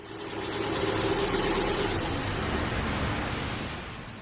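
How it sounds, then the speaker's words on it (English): A Subaru car engine idles steadily with a low, even rumble that holds for a few seconds after an oil change, with no voices. "the engine is run for a few seconds to circulate the oil around the system"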